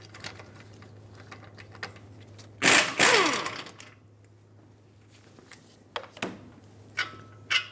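A socket ratchet on a caliper bracket bolt at the rear axle of a 2003-2009 Dodge Ram 2500 gives a loud, close burst of whirring clicks, then a few sharp metallic knocks and clicks over a low hum.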